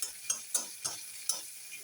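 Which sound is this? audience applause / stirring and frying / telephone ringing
stirring and frying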